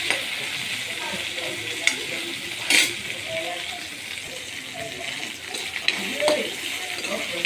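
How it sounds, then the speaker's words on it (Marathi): Okra sautés in a little oil over a high gas flame, a steady broad sizzle running throughout with occasional stirring scrapes and clinks of the utensil. "गॅस फास्ट आहे फास्ट गॅसवरतीच भाजायची आहे व्यवस्थित जोपर्यंत एकदम नरम होत नाही"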